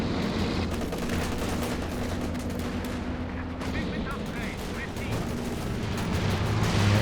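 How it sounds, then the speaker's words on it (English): Walking Stuka rocket barrage in Company of Heroes 2, a dense stretch of rumbling blasts and crackling impacts rolling on continuously, with a voice talking over the battle. "Walking Stuka ready to fire."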